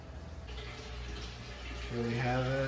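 A water sink vacuum drains an Oscar cichlid fish tank, gurgling and sloshing under a low hum, with water flow rising and becoming more burbling near the end.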